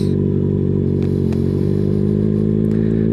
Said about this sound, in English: So as you let the clutch out, you start giving it gas.